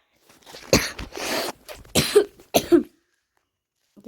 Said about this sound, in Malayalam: ചെറിയ ചുമയുണ്ട് കേട്ടോ.